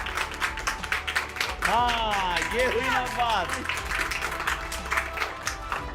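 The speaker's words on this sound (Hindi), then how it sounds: "तो एक बार जरा उनके लिए जोरदार तालियां हो जाएं," Students applaud loudly at an inspirational school event, a continuous wash of clapping with a voice speaking over it and a tonal vocal passage in the middle.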